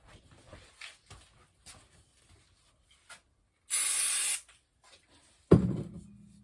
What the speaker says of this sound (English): little bit of brake cleaner, never hurt anyone. Just put that in there, right?